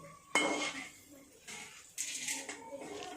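Chana dal and peanuts roasting in a pan during tempering, with a few close metallic scrapes and clinks of a spoon stirring the dry grains in short bursts.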